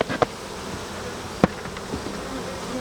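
Honeybees shaken off a hive frame into a tub during a Varroa mite count, giving a steady close buzzing swarm with a few sharp knocks of the frame against the box.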